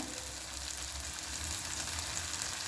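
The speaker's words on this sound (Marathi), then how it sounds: "लसूण अद्रकची पेस्ट हे छान आपलं आता फ्राय झालेलं आहे" Garlic-ginger paste sautéing in hot oil with spices such as turmeric and garam masala makes a continuous close sizzle, an even bright hiss with a low crackling rumble beneath, and no speech.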